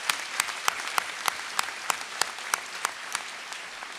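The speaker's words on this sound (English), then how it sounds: "I'd like to give him another nice round of applause" A high school senior assembly audience in a gym gives a steady round of applause, a dense crowd clapping with a few sharper individual claps standing out in a regular rhythm.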